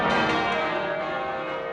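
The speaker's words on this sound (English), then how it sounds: "The bells toll for the Queen as guests arrive at St Paul's Cathedral in London for the Thanksgiving service" Church bells tolling at St Paul's Cathedral in London, a rich ringing tone that fades slowly over the short stretch, alone without voices.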